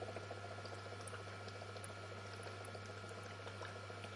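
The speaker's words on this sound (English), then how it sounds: "Here it shows how the bubbles look like." Steady fizzing and bubbling of electrolyte in a homemade hydrogen electrolysis cell, slightly overfilled with electrolyte, with a constant low electrical hum underneath; continuous, close and fairly quiet.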